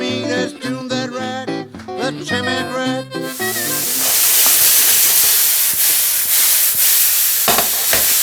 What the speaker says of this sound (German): Die Pilze werden geröstet.